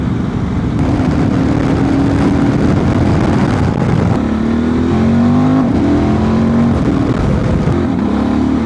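Honda Transalp 750 motorcycle engine with a remapped ECU, loud and close, running continuously with rising and falling revs and a strong, steady drone throughout.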